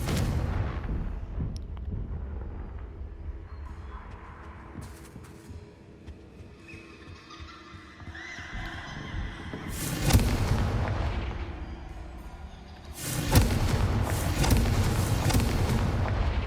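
Loud blasting explosions from the Confringo spell in the Hogwarts Legacy video game, two heavy booms landing several seconds apart over a steady low rumble of game ambience.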